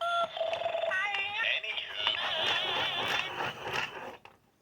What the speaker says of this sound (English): It picks from about 6 different short loop sounds of a guitar.